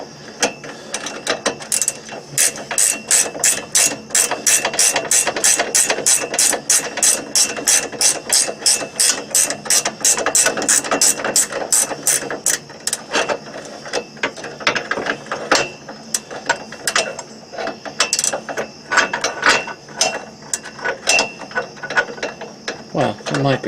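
A hand ratchet wrench clicks rapidly and steadily while tightening bolts on a car's steering brace, close and loud, in long runs of ratcheting with brief pauses.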